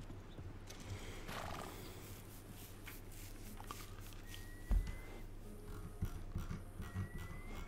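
A horse in the video game Red Dead 2 snorts and shifts, with a brief loud thump near the middle and soft movement sounds, over a steady low background hum.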